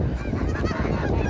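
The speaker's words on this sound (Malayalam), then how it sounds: "അതിൽ ഒരുപാട് താറാവുകളും അരയന്നങ്ങളൊക്കെ ഉണ്ട്" Ducks and swans call around a lake outside Al Bayt Stadium in Al Khor, Qatar, a dense, steady chorus of honks and quacks that fills the whole moment at fair loudness, with no talk.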